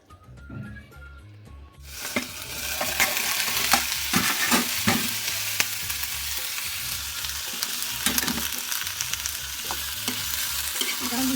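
Tomatoes frying in a little soybean oil, quiet at first, then a strong continuous sizzle with frequent stirring scrapes and clicks close by.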